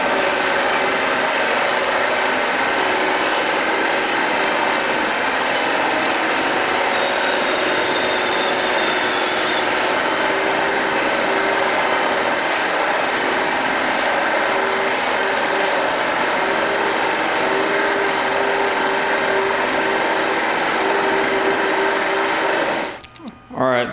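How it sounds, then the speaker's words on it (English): A carpet extractor runs steadily while shampooing and extracting a car floor mat, a continuous loud motor whine with suction rush that holds nearly unchanged for over twenty seconds before cutting off at the very end. "just do a time lapse of me shampooing and extracting this floor mat"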